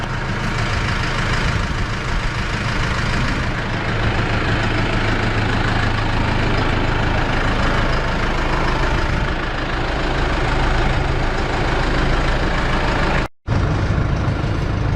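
A Case IH 75C tractor engine runs steadily close by for the whole stretch, a loud low rumbling drone with a brief cut near the end.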